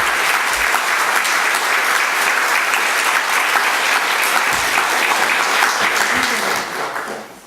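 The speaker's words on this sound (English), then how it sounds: "And now let's give them a round of applause." Loud, full audience applause for award recipients at a corporate event, sustained and dense for several seconds before tapering off at the end, with faint voices under the clapping.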